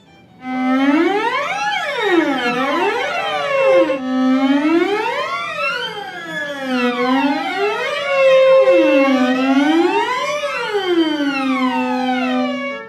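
Student cellos and basses play a siren exercise, the ensemble sliding their pitches up and down together in long, repeated swoops that rise and fall in waves, loud and continuous with no talking.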